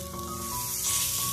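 Batter hisses and sizzles on a hot pan as it is poured, a steady close crackling hiss for about a second with a faint tonal hum underneath.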